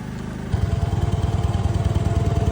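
A motorcycle engine running close by with a steady, throbbing idle that picks up into a quicker, pulsing rhythm partway through, loud and alone without talk.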